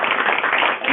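Audience clapping after a talk on work-life balance, a dense steady patter of many hands close by filling the whole second without a break.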